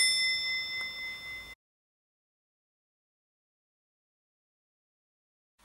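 A doorbell gives a single faint, sustained chime at the start, ringing for about a second and a half before cutting to dead silence.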